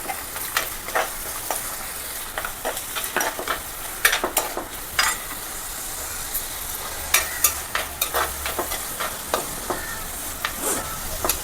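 Finely chopped onion frying in a pan, a steady crackling sizzle broken by frequent sharp spatula knocks and scrapes, close-up with no voices.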